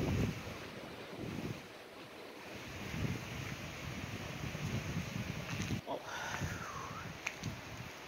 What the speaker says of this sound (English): Only you get to hear the roar of water underneath you.